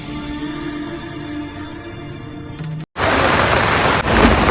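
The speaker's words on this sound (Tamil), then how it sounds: "மழை வருதுண்ணா" Heavy rain pours down at Marina beach in Chennai as a loud, dense, steady hiss, with a brief dropout and then an even fuller downpour close by.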